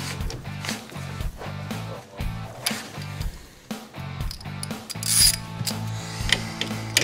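Ratchet loosening the 15 mm caliper bolts on a Polaris RZR, with rapid rhythmic clicking of the pawl in repeated bursts, close and clear, and a brief metallic clink near the middle.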